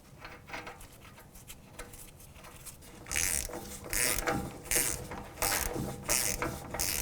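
Axle nut being threaded onto the front wheel hub of a 2007-2013 Acura MDX, giving a close, rapid series of metallic ratcheting clicks in bursts that grow louder partway through, with no talk.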